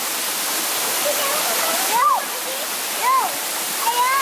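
Waterfall at Srambang Park, Ngawi, a steady bright rush of falling water that runs throughout, with a few short chirping sounds on top.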